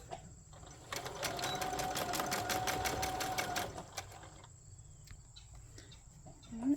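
Sewing machine stitching a seam on a boxy bag, a fast regular burst of needle strokes lasting a few seconds, then stopping, with quiet room noise afterward.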